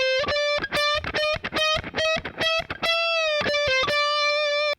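An electric guitar plays a solo phrase: a quick series of plucked, bent notes with brief gaps, ending on a longer sustained note, heard alone and up close.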